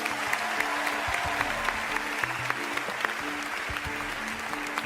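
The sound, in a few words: audience applause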